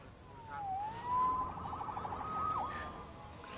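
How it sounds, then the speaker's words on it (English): Police siren in Marvel's Spider-Man on PlayStation 4, a wailing tone sweeping up and down with a quick yelp, moderately loud over faint ambient city noise. "Saved by the siren."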